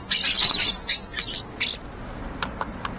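Starlings chirp in a run of short, bright, high calls, loud at first and then fading into sparse scattered tweets, with no other sound around them.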